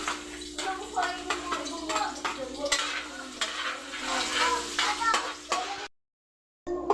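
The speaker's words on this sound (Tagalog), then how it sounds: "Gisa na nga natin ang bawang." Garlic sautés in a pan for chicken adobo, a bright crackling sizzle with scraping stirs, under a voice talking, close, then cutting to silence near the end.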